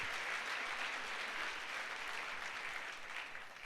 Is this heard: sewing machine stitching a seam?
no